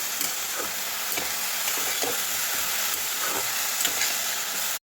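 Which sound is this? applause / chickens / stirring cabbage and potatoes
stirring cabbage and potatoes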